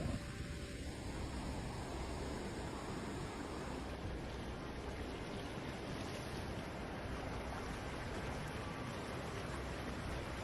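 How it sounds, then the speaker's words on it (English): Heavy rain north of Afif in Saudi Arabia, a dense, even, roaring hiss that fills the whole stretch without a break. "هذه امطار شمال عفيف على طريق ذريه"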